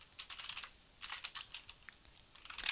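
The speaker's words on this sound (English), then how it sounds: "I'm going to press enter, and that'll give me a D, and then shift tab will take me back up a level" Computer keyboard typing in three quick bursts of crisp key clicks, with short pauses between, close and fairly quiet with no talking.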